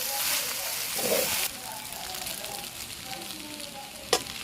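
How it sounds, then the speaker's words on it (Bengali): Chowmein stir-fried with vegetables in a pan, a steady hiss and sizzle with scraping stirs and a sharp clank of the utensil near the end, with a voice talking over it. "আমি চাউমিনটাকে ভালো করে মিক্স করে নিয়েছি সবজির সাথে"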